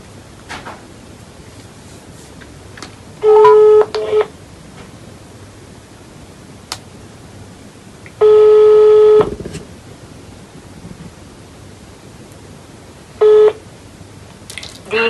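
Telephone dialing tones on a German phone line during a redialed call: three short bursts of loud tone beeps separated by long stretches of quiet line hiss, with no voices over them.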